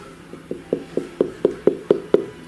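A heavy pumpkin knocked by hand, about nine hollow, resonant thuds in a steady, slightly quickening rhythm, close and clear with no talking.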